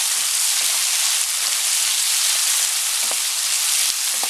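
Tomatoes and pork sauté in a pan for ginisang munggo, a mung bean dish, with a loud, steady, hissing sizzle and a few light clicks of stirring throughout.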